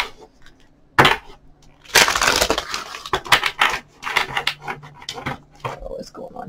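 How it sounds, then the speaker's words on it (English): Tarot cards being shuffled up close: a crisp riffle followed by a run of quick papery flicks and taps, without speech. "I'm going to do one more shuffle."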